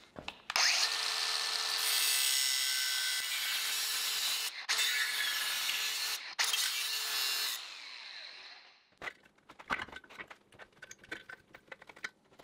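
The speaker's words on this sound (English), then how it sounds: "So I'm actually just gonna slice this out as a big triangle" Triangle of metal being cut out of a tractor auger with a power saw: a loud, steady grinding whine in long bursts broken by short pauses, then scattered scraping and clattering as the cut finishes.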